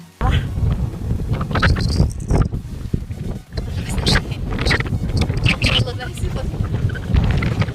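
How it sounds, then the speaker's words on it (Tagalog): Strong wind roars and buffets the microphone throughout, with voices talking over the constant gusty rumble, in rain at the Cliffs of Moher, Ireland. "bukod sa umuulan, ang lakas pa ng hangin"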